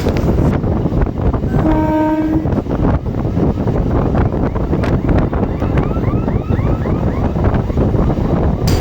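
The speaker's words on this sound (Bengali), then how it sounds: "আমাদের কৃষক স্পেশাল লোকালের সাথে ক্রসিং হচ্ছে শিয়ালদহ কল্যাণী সীমান্ত লোকালের" Krishak Special local train crossing the Sealdah–Kalyani Simanta local, heard as a loud continuous rumble and clatter of passing carriages with wind buffeting, a brief horn blast near the start and squealing wheel tones later.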